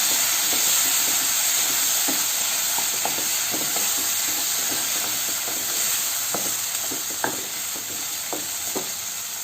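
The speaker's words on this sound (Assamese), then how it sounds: "এতিয়া মই ইয়াত পানী দিলোঁ।" Water poured into spiced masala in a hot pan while cooking raw banana kofta curry, giving a steady sizzling hiss with scattered crackles and pops, close and continuous, no voices.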